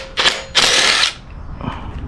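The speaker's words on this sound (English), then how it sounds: "Let's take the 4 little bolts on the harmonic balancer." A power tool spins off harmonic balancer bolts on a 1995 Toyota Tacoma 2.7L inline-four engine during a rebuild, with two short, close whirring bursts followed by a faint mechanical rattle.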